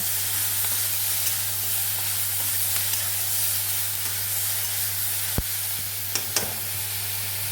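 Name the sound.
moong dal frying in ghee on low gas, sizzling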